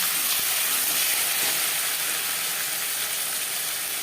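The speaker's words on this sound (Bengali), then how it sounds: "পাঁচফোড়ন কিনে ভেজে নেওয়ার পর দিয়ে দেবো আদা বাটা কাঁচা লঙ্কা বাটা" Panch phoron spices frying in hot oil with ginger paste and green chili paste, giving a steady, dense sizzle and hiss that stays loud and even throughout with no voices.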